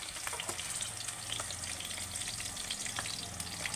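Okra (bhindi) pieces fry in a pan for a Telangana-style bhindi fry, a continuous quiet crackle and sizzle dotted with small pops and light stirring, with no one talking.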